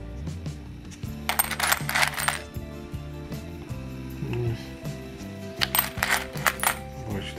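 Pre-reform coins, including a 1950 kopeck, clink and jingle as they are handled and sorted during an unboxing, with repeated bright metallic taps and clusters of clatter close up and no talking.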